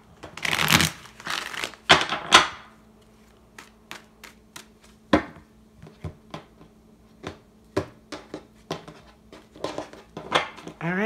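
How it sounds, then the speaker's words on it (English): Tarot cards are shuffled by hand, a few brisk riffling bursts at the start followed by scattered soft taps and flicks of cards being cut and laid down, close and quiet with no talking. "Give us one more shuffle."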